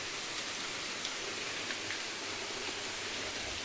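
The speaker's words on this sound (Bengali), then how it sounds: "আর এই দেখো বাইরে বৃষ্টি পড়ছে," Rain falls outside, a soft, steady, even hiss of drops heard faintly and continuously with no talking.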